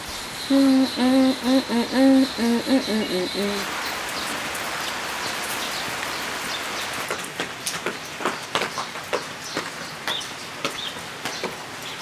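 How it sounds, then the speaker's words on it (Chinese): Rain falling outdoors at a rural home as evening darkens, a steady broadband patter that starts softly and then thickens into a dense, close downpour with scattered louder drops, after a brief burst of someone singing at the start. "其实不是黑，而是下雨了。"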